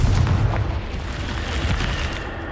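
A Confringo blasting curse explodes in Hogwarts Legacy, a loud sustained rumbling boom with a heavy low-end burst at the start, then a crackling roar that holds steady to the end.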